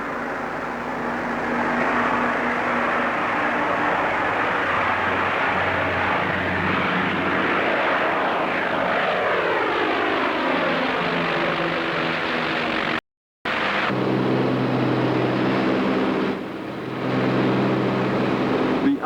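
Grumman S2 Tracker piston-engined patrol aircraft droning overhead near Broome, Western Australia, a loud steady propeller roar with shifting pitch as it passes, briefly cut out and then resuming.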